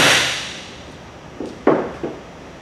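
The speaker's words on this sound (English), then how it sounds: "take the connecting wedge and hammer it through the lock with the hammer" Hammer strikes drive a connecting wedge through a lock clamping two formwork panels, three sharp metallic knocks spaced irregularly after a fading noisy start, fairly close and without talk.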